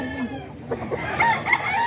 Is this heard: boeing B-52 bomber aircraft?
no